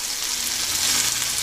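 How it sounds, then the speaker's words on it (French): Mushrooms sauté in butter in a pan, giving a loud, even, close sizzle that holds steady without pause and with no one talking. "Et mes champignons vont aller également revenir dans du beurre."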